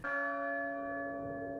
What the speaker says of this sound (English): just when you're about out of ammo, at your wit's end, the church bell rings